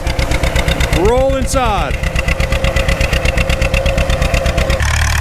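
A John Deere BR tractor engine runs with a rapid, even putt-putt beat, loud and close, pulling a two-bottom trailing plow; a passing whine sweeps over it briefly, and a short spoken remark is heard.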